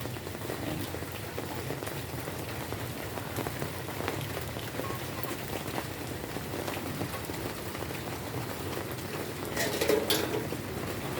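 Rain falls steadily on a surface outdoors near a river behind a house, a constant close patter and drip that goes on throughout, with a few light clinks of cooking gear near the end.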